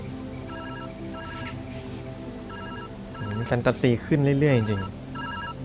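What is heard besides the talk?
telephone ringing in the video game Viewfinder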